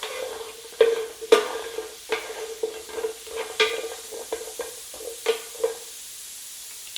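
Vegetables for a healthy stir-fry are stirred and scraped around a hot pan, with irregular utensil knocks over a steady low sizzle, close up and without talk.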